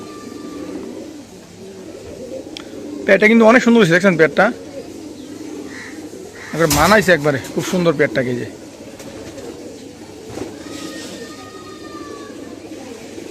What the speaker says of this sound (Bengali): চায়না খাকি কবুতর খুব সুন্দর